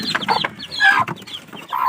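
Fighting cocks and breeding chickens cluck close by in a quick run of short, throaty calls, several overlapping bursts across two seconds.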